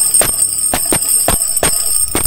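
A lanangan rebana banjari hand drum plays the 'naik 1' pattern: about six sharp, resonant strikes in an uneven rhythm, close and loud over a steady high-pitched background hum.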